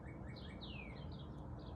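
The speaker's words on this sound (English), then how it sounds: "Y'all hear them birds out there" Several birds chirp and tweet outside, thin and faint against a steady low background rumble, with a few short calls and one longer descending note.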